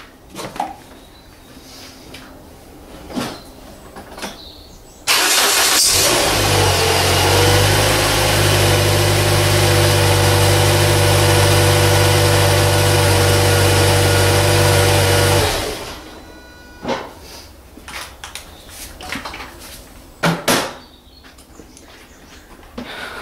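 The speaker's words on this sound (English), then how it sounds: "So just start the car, make sure it's running." A 2009 Toyota Verso's engine cranks and catches, then settles into a steady, loud idle for about ten seconds before shutting off, with quiet workshop handling noises before and after.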